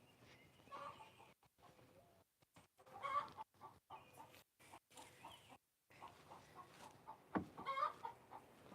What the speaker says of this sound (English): you guys can enjoy the chickens for a minute